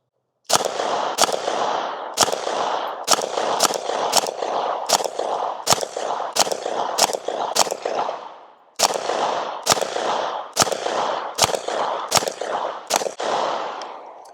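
Pistol shots from a compact pistol in a Nano Roni conversion kit crack out in a steady string at an outdoor range, sharp reports about half a second apart, loud and close, with a short pause partway through before the firing resumes.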